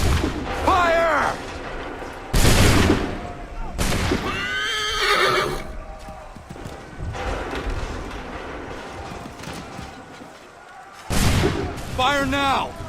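Musket volleys in Assassin's Creed 3: several sharp, loud blasts with rumbling tails break out at intervals, mixed with horses whinnying and shouted voices.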